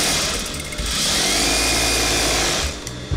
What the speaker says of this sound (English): So now it's important that we go back and forth over there, in essence bar tack it